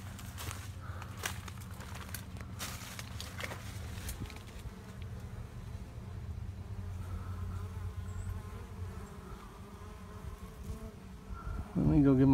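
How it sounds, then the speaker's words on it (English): Dense, continuous buzzing of many bees swarming close around a swarm trap, a low droning hum with occasional sharper passes, ending in a louder burst. "I can see bees swarming all around it"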